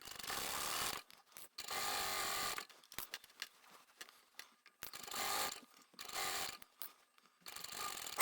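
A sewing machine stitches a large reversible tote bag lining in several close bursts of rapid mechanical clatter, stopping and restarting between runs, with no voices.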